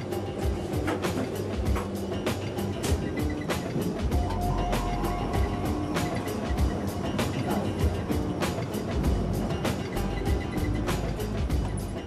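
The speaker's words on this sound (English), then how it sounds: "The train races through the desert here." A train races along railway tracks through the desert toward Tehran in Iran, heard as a loud, continuous rumble with rapid rhythmic clicks and clacks of the wheels over the rail joints throughout.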